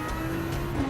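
A race car in a VR racing game roars past at close range, a steady loud engine drone over about a second with a swelling rise toward the end.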